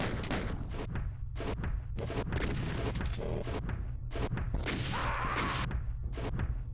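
A lift in Doom 2 grinds into motion amid thumping game sounds, heavy mechanical thuds and door-like slams repeating in uneven bursts, with a louder sustained rumble near the end.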